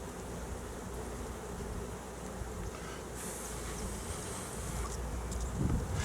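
Honey bees buzz steadily around a queenless three-frame nuc hive, a dense continuous hum close by with a faint whoosh of wind and no voices.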